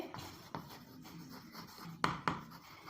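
Pen scratching on paper or a board while an algebra equation is written out, steady soft scraping with a few sharper taps near the end, quiet and close with no talk.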